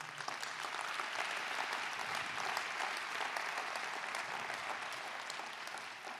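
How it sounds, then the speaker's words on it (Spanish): Steady, dense applause from an audience at a church gathering, a continuous roar of many hands clapping that holds evenly for several seconds with no voices on top. "Dele un fuerte aplauso a Dios."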